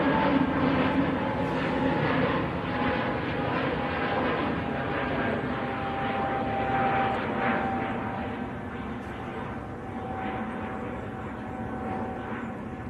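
EasyJet airliner taking off at Manchester Airport, a steady broadband jet engine roar that holds for many seconds and slowly eases, heard at a distance with no talking.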